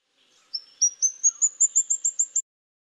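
A Legge's flowerpecker, a tiny endemic bird of Sri Lanka, gives a quick series of about nine thin, high, sharp notes that climb slightly in pitch, evenly spaced, close and clear against silence.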